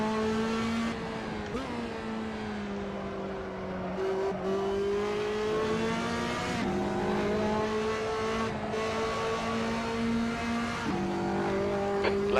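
Race car engine in a racing video game, steady and loud with layered harmonic whine that dips and climbs as the car brakes into a turn, the right front tyre locking up, with faint tyre scrub and no talk.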